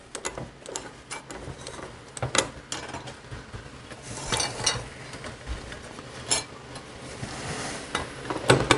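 Clanks and taps of a Harley Davidson wheel part being set and clamped in a bench vise, with scattered sharp metallic knocks and scrapes at close range over a low steady hum.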